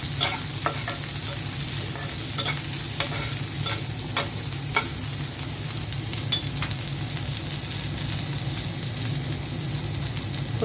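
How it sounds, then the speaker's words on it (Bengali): Finely chopped dried fish (shutki) sizzles steadily in hot mustard oil in a pan, with occasional stirring clicks and scrapes over a continuous crackling fry, close and moderately loud with no talking. "শুটকিটা আমি কুচি কুচি করে কেটে নিয়েছি। প্রথমে শুটকিটা ভেজে নেব।"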